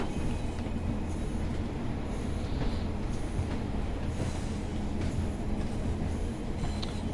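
A train in the video game Train Sim World 6 pulls into platform 2, a steady rumble of wheels and running gear on track with faint squeals, constant and fairly loud throughout with no talk.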